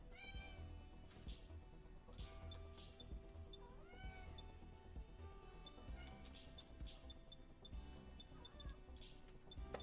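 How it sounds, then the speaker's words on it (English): A house cat meows repeatedly in quiet, drawn-out and rising calls spaced a second or two apart, close by and fairly soft, sounding insistent as if complaining or wanting attention. "I can't tell if the cat's like legitimately complaining about something or just wants attention"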